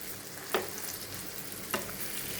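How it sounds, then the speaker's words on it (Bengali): A thin rolled flatbread snack fries in a little oil in a pan, a steady close sizzle with two brief sharper crackles as it is moved or turned, no voices. "এটাকে এপিট ওপিট করে আমি ভালো করে একটু ভেজে নেব"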